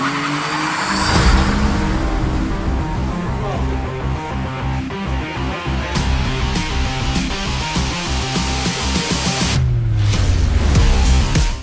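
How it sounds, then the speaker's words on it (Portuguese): Miniature slot cars race around a track, a dense whirring motor whine with squealing, skidding tire sounds, loud and continuous, with a voice under the racing noise. "À primeira vista são brinquedos, mas os detalhes revelam slot cars, recriando à escala reduzida a competição"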